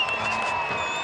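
Spectators cheer at a Red Bull Bowl Rippers 2019 skateboarding bowl contest, a steady, loud wash of crowd noise with a sustained tonal hum running through it, no clear individual voices standing out.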